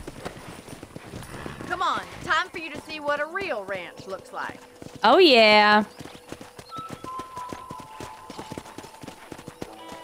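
Horse hooves clopping along in the Red Dead Redemption video game, light rhythmic steps under spoken dialogue, with a horse's whinny and in-game music around them.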